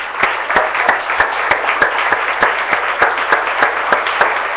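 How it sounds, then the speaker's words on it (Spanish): A congregation at a Spanish-language church service applauds: sharp, evenly spaced claps in a steady rhythm over a dense bed of crowd clapping, loud and close throughout. "Démosle un aplauso al Señor"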